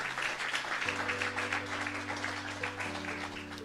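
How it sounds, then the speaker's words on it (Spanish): Applause from a church congregation giving glory to God during a Spanish-language sermon, a steady wash of clapping heard from a distance under sustained organ or keyboard tones. "Denle un aplauso fuerte a Dios."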